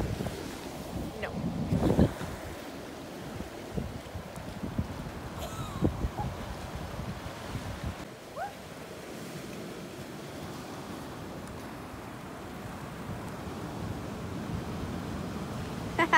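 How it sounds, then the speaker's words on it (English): Ocean waves wash in under a steady gusting wind on the Irish coast. The surf rumbles low and continuously, with wind buffeting the microphone and occasional faint sounds in the background. "I feel like all we do is go sit by the ocean."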